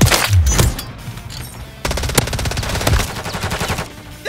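Rapid automatic gunfire in Call of Duty MW3, loud and close, coming in bursts with a brief pause before a longer sustained stream of shots.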